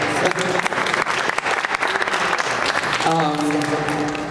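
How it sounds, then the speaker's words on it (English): A crowd applauds steadily at a Hanukkah event, a dense wash of clapping hands that carries on throughout, with a voice briefly rising above it near the end. "Did he not give him a round of applause?"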